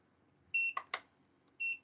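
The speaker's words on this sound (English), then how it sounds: "It'll beep at you to let you know that obviously you have your top off." Electronic beeps from a nail salon device used for hard gel work: two short steady high tones, a burst of brief clicks or scrapes between them, in a quiet room.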